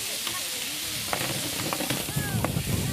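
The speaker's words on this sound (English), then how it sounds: "I'm caramelising up the garlic and the onion" Garlic and onion caramelising in hot oil in a pan give a loud, steady sizzle, close up, with scattered stirring clicks and scrapes and faint voices in the background.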